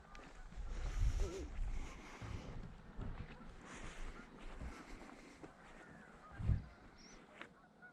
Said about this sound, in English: large flocks of geese moving around.